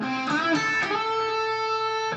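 A short electric guitar pentatonic lick of quick melodic notes with a bend, then a sustained ringing note, played clearly with no voices.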